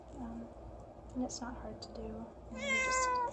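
A phone alert that mimics a cat's meow, one short rising meow-like tone at the end, heard in a quiet room while someone talks softly.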